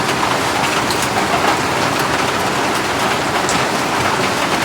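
Steady rain falling, a loud dense continuous hiss of drops striking surfaces with no break or variation, no voices.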